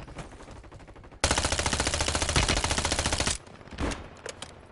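Automatic gunfire in Warzone 3 rattles in a loud, rapid, sustained burst lasting about two seconds, followed by a few scattered shots in the distance.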